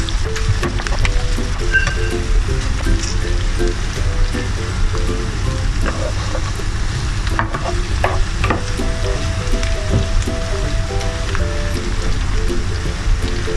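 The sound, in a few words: garlic frying in a pan for fried rice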